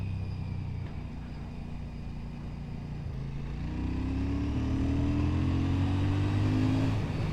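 A Royal Enfield Shotgun 650 motorcycle's engine pulls and climbs in pitch as it accelerates, a rising drone under steady wind and road noise.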